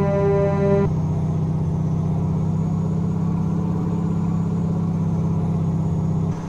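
A Kenworth T600 truck hauling four trailers while braking downhill in American Truck Simulator, heard as a steady, loud low engine drone that holds unchanged throughout, with a brief tonal hum at the start and no talking.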